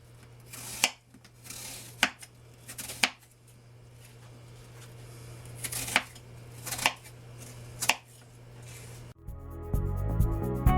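A knife slices an apple into thin slices on a cutting board, giving sharp, evenly spaced chops, about eight crisp strikes close by over a steady low hum, followed by a burst of music.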